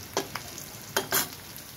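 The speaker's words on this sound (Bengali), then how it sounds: "পেঁয়াজ আমার সুন্দরভাবে ভাজা হয়ে গেছে" Onions frying in a pan while being stirred with a spatula, a few brief scraping stirs over a faint steady sizzle, close and fairly quiet.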